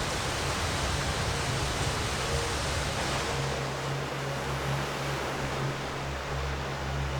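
Steady broadband rush of ocean surf around a boat in the video game Like a Dragon: Pirate Yakuza in Hawaii, continuous and enveloping, with a low engine-like hum underneath and no talk.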